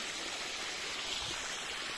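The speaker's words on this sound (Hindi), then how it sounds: "तो ये चल रहा है नल।" Water pours steadily from a tap fed by a Texmo Aquatex pump on a farm field, a soft, even rushing that stays constant and fairly faint throughout.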